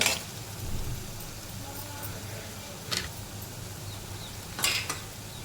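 Chopped onion and halved green chillies sauté in a pan for a wet cashew-seed curry, with a soft, steady sizzle and occasional louder scrapes and clinks of a stirring spoon against the pan.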